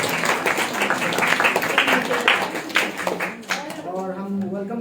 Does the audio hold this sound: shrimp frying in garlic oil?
no